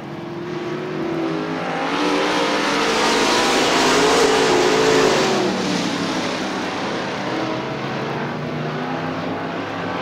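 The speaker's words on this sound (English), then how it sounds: "Scott Tyson will drop to the inside through turns 3 and 4 to make a run at Johnson" Super late model race cars roar around the oval at Crystal Motor Speedway in Michigan, engines swelling louder as the pack passes close by, then easing off into a sustained distant drone.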